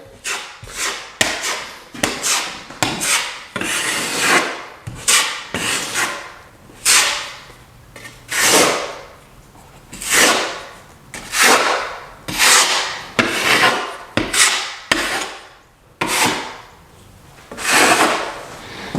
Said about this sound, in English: Now you want to make sure you get it scraped off pretty good because you're going to be putting your tape back over this.